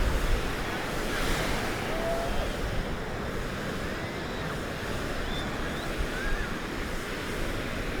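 Surf rolls in steadily at Naples Beach, Florida, a continuous loud wash of breaking waves with wind buffeting the microphone and faint distant activity.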